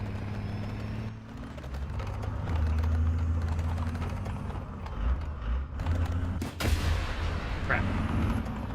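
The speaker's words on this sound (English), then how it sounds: "I'll just try to fire a missile at it." Missile launch from an AH-56 attack helicopter in War Thunder, a sharp blast cutting through steady rotor and engine drone, followed by a fainter whooshing tail and clanking mechanical noises.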